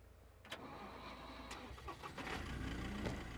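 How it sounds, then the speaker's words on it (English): A truck engine in the video game SCUM starts and revs at a moderate level, with a few clunks and a steady mechanical hum. "it might have actually been easier without the truck noise"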